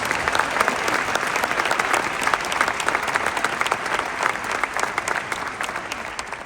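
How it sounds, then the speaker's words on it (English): Sustained, dense applause from an audience at a Sister Cities 2025 volunteer award event, loud and steady throughout with no voices over it. "Please, a round of applause for our Sister Cities members."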